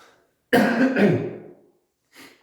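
One close, forceful cough with a rough trailing exhale, then a softer throat sound after a short pause; no talking.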